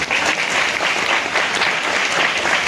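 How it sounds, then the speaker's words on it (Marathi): A church congregation bursts into dense, steady applause, a loud, even crowd of clapping hands filling the room throughout, with no voices over it. "टाळ्या."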